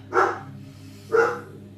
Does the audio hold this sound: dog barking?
yes